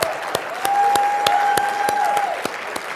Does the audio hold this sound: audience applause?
yes